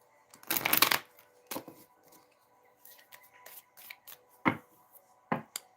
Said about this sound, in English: Give this a shuffle here.